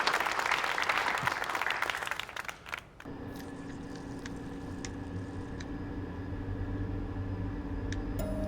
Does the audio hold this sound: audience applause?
yes